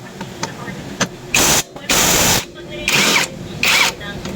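Impact wrench removing the magneto nut on a Yamaha Aerox 155 scooter, sounding as four loud, broadband rattling bursts of roughly half a second each, separated by short gaps, with faint background noise between them.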